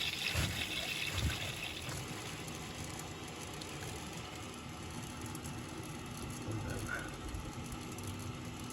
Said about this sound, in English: You should see the water go into it.